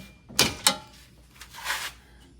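A metal tube door on a Jeep Wrangler JK swings with two quick creaking, scraping clunks, then a softer scrape and rattle as it moves again, close by.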